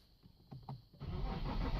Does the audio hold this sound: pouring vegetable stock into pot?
no